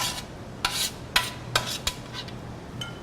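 Cornbread stuffing and vegetables mixed in a bowl, a few distinct scraping and rubbing strokes of a utensil against the bowl, spaced irregularly and fairly quiet at close range.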